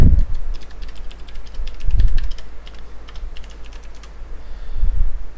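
Steady typing on a computer keyboard during a web development coding lesson: rapid, fairly loud key clicks in irregular bursts over a low background hum, with no talking.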